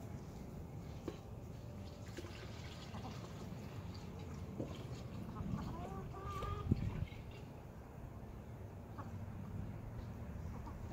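Backyard laying hens clucking faintly and sporadically as they are given bone broth in place of water, with soft scattered calls over quiet outdoor background noise.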